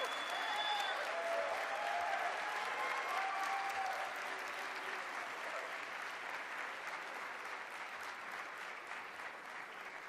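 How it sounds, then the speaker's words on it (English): A graduation crowd applauds loudly and steadily for a graduate, dense clapping with scattered shouts and cheers that taper slightly toward the end. "keep shouting, keep clapping, she deserves it"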